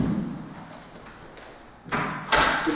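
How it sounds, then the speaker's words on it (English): A door is pushed shut indoors, giving two dull thuds close together near the end, with quiet room tone before them. "Victor, can you shut the door?"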